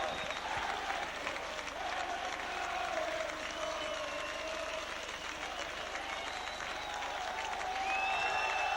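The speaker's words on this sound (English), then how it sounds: "The popular side crowd applaud him" A rugby league crowd on the popular side of the ground applauds a try at St Helens versus Oldham, a broad, steady wash of distant clapping and cheering that holds throughout, with a commentator talking over it.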